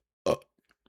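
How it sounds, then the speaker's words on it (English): A man lets out a single short, close burp, abrupt and throaty, followed by near silence with a few faint mouth clicks. "I gotta burp."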